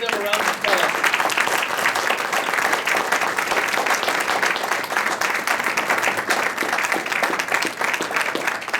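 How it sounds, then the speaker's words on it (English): Audience at a Nordic annual general meeting applauding award recipients, a full, even wash of clapping that holds steady throughout without a break. "We can give them a round of applause."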